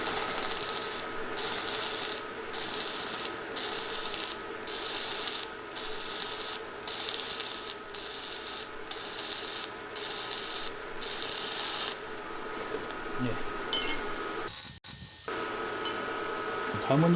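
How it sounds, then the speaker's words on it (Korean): A cold TIG welder set to 85 amps in TIG mode gives a loud, steady hiss pulsed on and off in short regular bursts for about twelve seconds, then drops to a quieter hum with a few faint clicks. "티그 용접 모드로 놨으니까 스위치를 누르면 용접이 됩니다."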